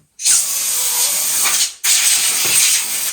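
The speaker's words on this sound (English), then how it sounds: "we'll start with just spraying them off with some air" Two loud bursts of compressed air spraying cobwebs and dust off stored train items, a long hiss followed by a short gap and a second sustained blast, close up.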